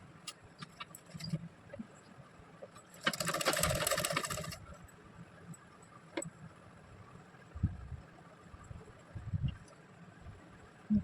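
A sewing machine stitching readymade piping onto a neckline gives one loud burst of rapid whirring stitches lasting about a second, surrounded by quiet handling clicks and soft rustling.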